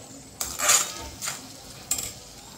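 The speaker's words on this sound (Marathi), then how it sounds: "हे सगळा मसाला तेल सुटेपर्यंत परतून घ्यायचा।" Spoon scraping and clinking in a pan as masala with yogurt and coriander is sautéed in oil, a few separate metallic stirring strokes over a faint sizzle.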